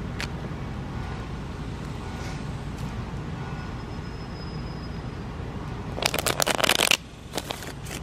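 Tarot cards being shuffled in a quiet room during a reading, a faint steady hiss for several seconds, then a burst of crisp riffling and flicking near the end.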